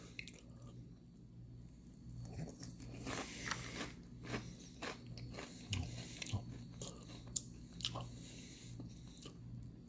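Crunchy peanut butter flavored cereal being chewed close up, with repeated irregular crisp crunches and bites spread over about ten seconds under a steady low background hum, no talking.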